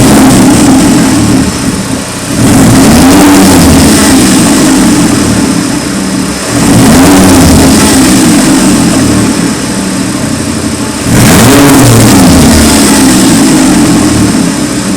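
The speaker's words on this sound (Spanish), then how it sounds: "ahora vamos a acelerar el motor." Car engine revved during a wideband oxygen sensor test, three loud rising-and-falling revs spaced a few seconds apart over a steady idle, close and without talk.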